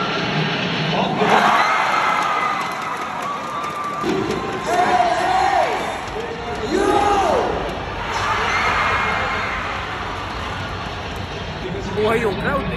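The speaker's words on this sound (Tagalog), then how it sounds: "buhay yung crowd" A crowd at a UAAP college basketball game roars and cheers in waves, loud and echoing through an arena, while a commentator talks over the noise.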